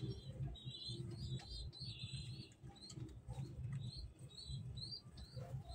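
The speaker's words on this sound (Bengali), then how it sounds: "কবুতরটা মাশাআল্লাহ ভালোই হয়েছে" A pigeon, a slim-bodied flier, shuffles and flaps close by amid soft cooing and scratchy rustling, with faint high chirps over a low steady bed of noise.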